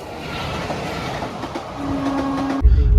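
The Lucknow–Pune superfast express rolls along, a steady loud rumble of wheels and carriage noise with a brief tonal squeal near the end before a heavy, close thumping.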